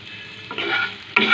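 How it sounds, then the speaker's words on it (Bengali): Vegetables, eggplant and potato, are stirred while frying with turmeric powder in a pan, with a spoon scraping and clattering in several bursts over a steady sizzle, close and fairly loud. "দিয়ে দেব হলুদ গুঁড়ো, একটু নাড়াচাড়া করে নেব।"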